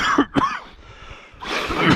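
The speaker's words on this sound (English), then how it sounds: "sorry about the cough" A couple of quick, harsh coughs close to the microphone, followed by a brief pause and another rough cough or throat clear.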